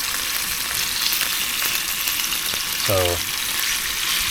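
Cheap beef sizzles in a skillet inside a van. A steady, close frying hiss carries throughout, and a voice speaks briefly midway.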